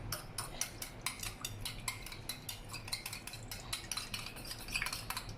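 A spoon stirs turmeric powder into a honey and onion juice cough remedy, clinking against the container in a quick, regular rhythm of close, crisp taps.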